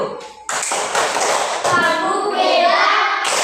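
A classroom of children claps in unison for a group that has just presented, a dense burst of hand claps with young voices mixed in.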